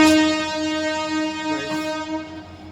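A train pulling out of the station on the Bangalore to Davangere Vasco da Gama service, with a steady sustained horn-like tone ringing over rumbling carriage noise throughout.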